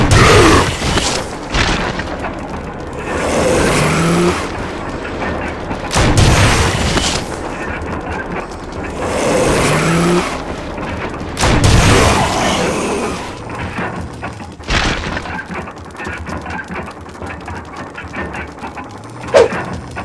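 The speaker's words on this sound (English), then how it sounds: "Grenade launcher!" Grenade launcher blasts in a Resident Evil game, several heavy booming explosions spaced a few seconds apart, each with a long rumbling decay, loud and close.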